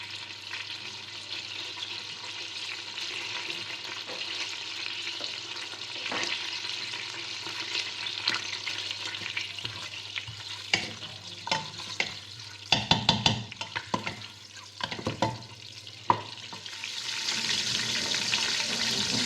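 Beef shank pieces fry in olive oil and butter over high heat, a steady close sizzle with occasional stirring scrapes and clinks, crackling louder toward the end.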